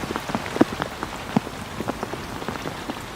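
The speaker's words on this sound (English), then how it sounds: "The rain starts to fall." Steady rain falls on a surface at a fishing reef where boats are anchored, a dense patter of drops with occasional sharper, louder hits, alone without voices.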